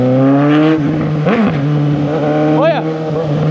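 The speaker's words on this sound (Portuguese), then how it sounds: "Esses quatro cilindros berrando" Suzuki GSX 750 four-cylinder motorcycle engine revving loudly and close, its tone rising and falling through several throttle blips, with someone talking over it.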